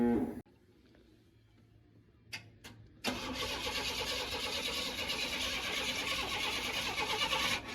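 A 1991 Chevrolet Blazer with a newly fitted fuel pump cranks briefly, falls quiet, gives a couple of short cranking bursts, then catches and settles into a steady, fairly loud idle that runs to the end.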